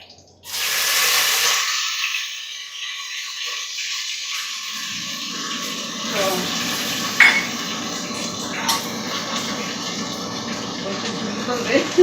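Star anise dropped into hot oil in a pan for mutton biryani: a sudden loud hiss that settles into steady crackling sizzle, with a few clinks of utensils and a voice speaking over it.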